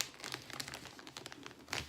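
Wrapping paper crinkles and rustles softly up close as it is folded down around a present, in quick, irregular crackles.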